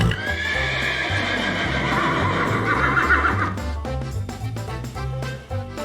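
A horse gives one long, loud whinny, then its hooves clip-clop in a quick steady rhythm, all over light background music.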